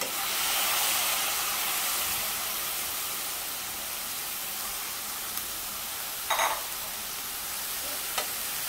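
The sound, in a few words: kantoli vegetable sautéing with onion in oil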